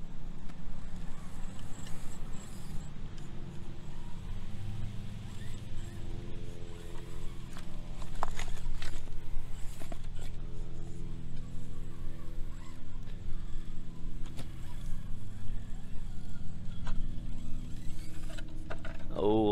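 A small brushless SCX24 JL Pickup RC crawler drives through the woods, its faint whirring motor and gear whine steady under a person's talking, with occasional light clicks and knocks from the chassis.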